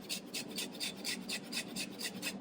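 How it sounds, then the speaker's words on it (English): Fresh ginger rasped against a grater in quick, even strokes, about ten short scrapes in a steady rhythm, close and fairly quiet with no talking. "I'm going to use this grater, and I'm going to grate maybe about 1 inch or so."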